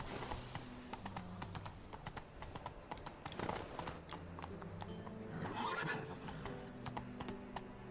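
Horse hooves clip-clop at a quick, steady rhythm in The Witcher 3 as the horse moves through a tight space, with a short snort or whinny partway through.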